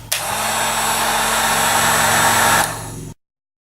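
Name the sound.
heat gun shrinking heat shrink tubing on wires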